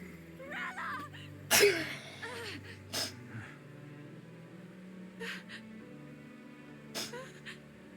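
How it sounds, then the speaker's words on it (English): A single sharp sneeze bursts out amid quiet breathing and small vocal sounds, with a few fainter gasps following. "This is a terrible time to sneeze"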